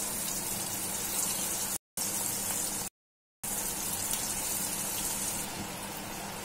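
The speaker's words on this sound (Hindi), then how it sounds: "मैं इन्हें डीप फ्राई कर रही हूँ।" Maharashtrian kothimbir vadi deep-fry in medium-hot oil, a steady close bubbling and crackling hiss broken by two short silent gaps.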